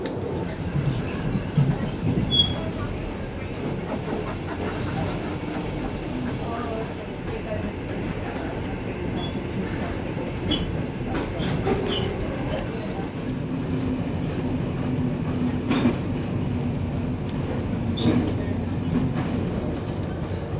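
A passenger train, The Overland between Melbourne and Adelaide, rumbles steadily along the rails near Horsham with low mechanical drone and occasional clicks and rattles, continuous throughout.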